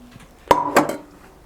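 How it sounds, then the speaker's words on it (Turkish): A heavy piece of bone-in meat thuds into a metal pressure cooker, followed by a clanking metallic knock and a short ringing resonance. "Bunu düdüklü tenceremizin içine koyuyoruz arkadaşlar."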